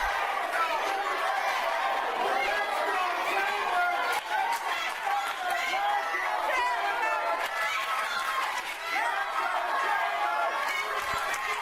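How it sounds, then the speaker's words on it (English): A wrestling event crowd fills the arena with rhythmic chanting and shouting, many voices overlapping in a loud, continuous roar with occasional claps and thuds. "You got half of this crowd chanting, "Let's go Chambers," and the other half chanting, "USA.""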